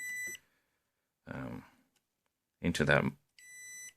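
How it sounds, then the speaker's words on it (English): Two bursts of high electronic beeping from a misaligned Qi wireless charger, at the start and end, with someone speaking briefly between them. "when it's not aligned properly, it will start beeping, and the lights will change"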